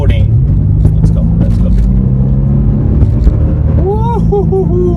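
A car engine rumbles loudly nearby, rising in a rev as it passes, with someone talking over it and a brief whoop near the end.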